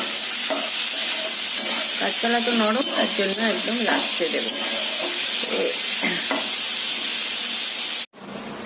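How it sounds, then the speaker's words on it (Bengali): Pointed gourd and potato sizzle and crackle steadily in a hot pan while someone talks over the cooking, with the frying sound cutting off near the end. "পটল আর আলু দিয়ে আরো ভাজা ভাজা করতে হবে।"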